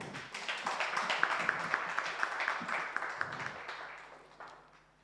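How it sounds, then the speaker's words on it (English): A crowd claps steadily, a soft, somewhat distant patter that tapers off toward the end. "Please give Madam Secretary a better clap."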